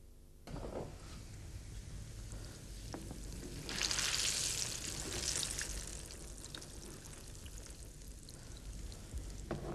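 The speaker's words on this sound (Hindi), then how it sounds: "इसको गरम तेल में फ्राई करके इसको अच्छा सुनहरा रंग देना है हमने।" Minted scotch balls, rolled in cornflour, deep-fry in hot oil with a steady, close sizzle and crackle that swells briefly in the middle, with no talking.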